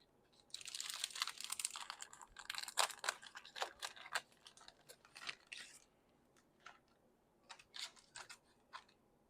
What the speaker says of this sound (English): Now I'm going to open up this fun